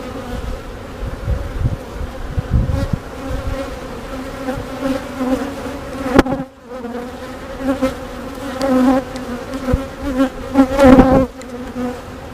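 Honeybees buzzing steadily and close around an open hive during a routine inspection, a dense continuous drone that swells and fades with bursts of louder activity.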